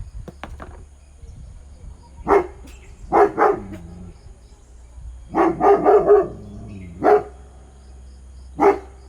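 Dogs bark in several short bursts, some grouped in quick runs, at moderate distance in a quiet room, with faint insect chirping in the background.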